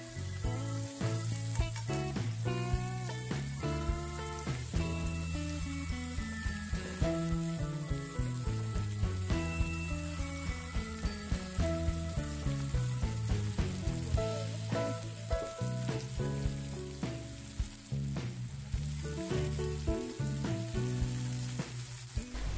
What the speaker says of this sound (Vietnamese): mình sẽ cho nấm rơm vào và xào lên thật đều nhé